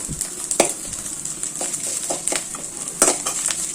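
Dried red chillies and spices being stirred in a pan for Thanjavur-style neer urundai, with a utensil scraping and clinking against the metal in irregular strokes over a soft sizzle, close and moderately loud.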